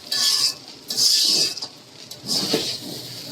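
Chowmein noodles are tossed and stirred in a pan, giving three rough bursts of utensil scraping and metallic rattling against the pan, close and fairly loud, with quieter gaps between.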